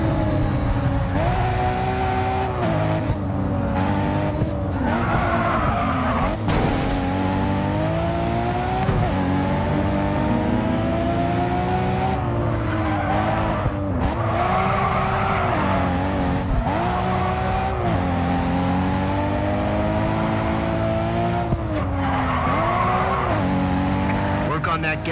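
Cars drifting in a racing video game, with engine drone and squealing, skidding tires continuing loudly throughout, under commentary from several people talking.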